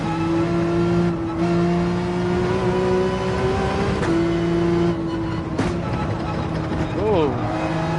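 Race car engine in Gran Turismo 7 on the Dragon Trail circuit, a steady loud droning note that briefly dips and rises again near the end as it downshifts, with talk over it.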